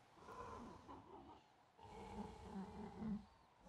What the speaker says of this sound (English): You are a loud snorer.